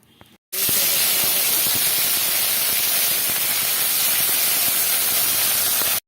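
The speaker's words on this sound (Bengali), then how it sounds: "এবার আমি এই যে যে ম্যারিনেট করে রাখা মাছগুলোকে এবার এই তেলে ভেজে নেবো" Marinated rui fish frying in hot oil for a Bengali fish korma gives a loud, steady, hissing sizzle that starts abruptly after a brief quiet moment and continues without a break.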